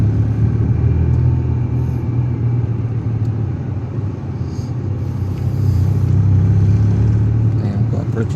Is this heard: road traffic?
yes